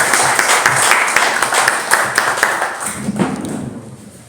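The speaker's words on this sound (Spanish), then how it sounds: "un aplauso a todos ustedes" An audience at a tango conversation event applauding, steady close clapping from a crowd of many hands that continues for about three seconds and then thins out as a murmur rises.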